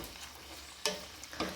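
Seeds or dal lightly frying on a low flame in a pan, a faint steady sizzle broken by a few sharp scraping stir strokes.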